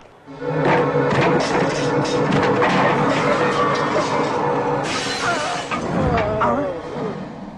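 Glass shatters loudly in a comedy scene after a framed photo is smashed in anger, with a dense crash, tinkling debris and fragments falling over several seconds.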